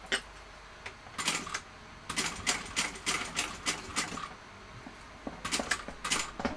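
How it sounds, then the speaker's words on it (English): A sewing machine stitches a single row across the bottom of a small handmade bag through several layers, in short bursts of close, quick ticking stitches separated by pauses. "I'm going to attempt to sew it just across the bottom"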